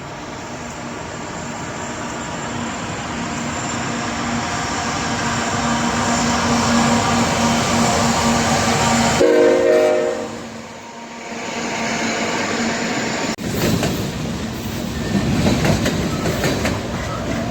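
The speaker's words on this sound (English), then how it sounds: "And here is a train coming." A train rolls along the tracks near an abandoned roundhouse, a broad rumbling roar with rhythmic wheel clatter that swells as it nears, dips briefly, then continues loudly.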